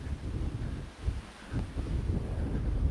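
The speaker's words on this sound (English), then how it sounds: "Oh my gosh, it is so windy." Strong wind buffets a microphone outdoors on a walk, a steady low roar with gusty surges and dips throughout, loud and close with no talking.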